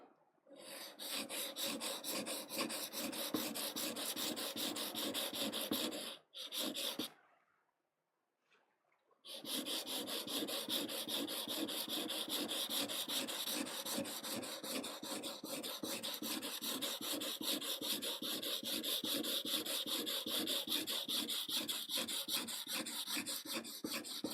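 A woodblock carving tool sharpened on its back and bevel, a steady rhythmic rasping scrape of metal on stone repeated rapidly and close, with a brief silent gap before it resumes, no voices.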